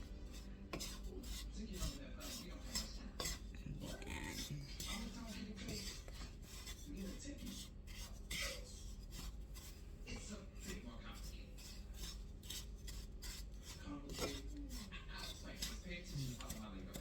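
Polvoron ingredients being mixed together in a bowl, a steady rubbing, scraping rasp that runs throughout with occasional utensil clinks, under Filipino talk.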